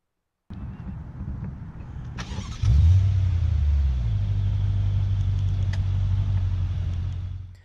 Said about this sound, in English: this vehicle does come with remote start as standard equipment, and operating is very simple just by double pressing the remote start button on the key fob.